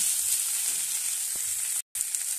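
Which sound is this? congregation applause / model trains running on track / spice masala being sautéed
spice masala being sautéed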